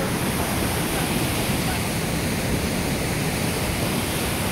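Heavy rain pours down steadily, a loud, unbroken hiss with no pauses and no other sound standing out.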